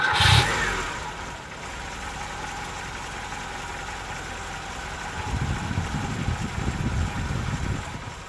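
A 1984 Lada 2106 engine catches with a brief burst, then settles into a quiet, steady idle before revving up slightly near the end.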